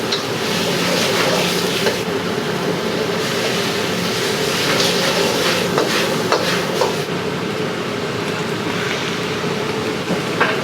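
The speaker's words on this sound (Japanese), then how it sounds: "野菜炒めてます。" Vegetables stir-fried in a hot restaurant kitchen at a Japanese tempura and udon shop, a loud continuous roaring sizzle with scattered metallic scraping knocks, close and steady without talk.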